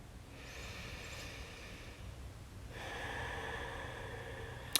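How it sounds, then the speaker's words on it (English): A deep breath during a hip-opening hatha yoga class: a long inhale and then a slower exhale, close and soft against a quiet room hum, with no voices. "Deep breath here."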